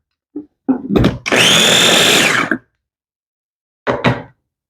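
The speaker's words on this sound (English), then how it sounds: "Just gonna give it another blend right here." Kitchen blender whirring through a sweet sauce for cream cheese wontons: a couple of short pulses, then a loud sustained blend of about a second and a half, followed later by a brief closing burst.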